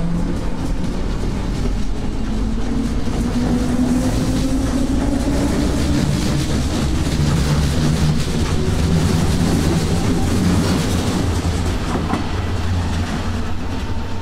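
A Berlin S-Bahn class 485 electric commuter train rolls past at trackside with a loud, sustained rumble, wheel noise and rail clatter holding strong throughout, with no talking.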